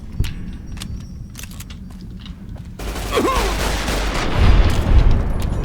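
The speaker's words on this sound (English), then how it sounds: "I'm shooting a much bigger caliber than you, mate" Large-caliber gunfire in the video game Fallout New Vegas, with sharp shots early on, then a dense burst of blasts and rumbling impacts building louder toward the end.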